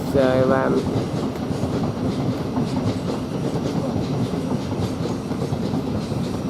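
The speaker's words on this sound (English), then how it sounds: "we've got another train coming through here, with the Thameslink service" A Thameslink Class 700 train runs through Three Bridges station, a steady loud rumble and rattle of wheels on rail throughout, with a brief tonal whine at the start.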